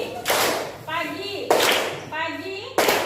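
An audience gives three loud bursts of clapping, close and energetic, with children's voices and talk between them.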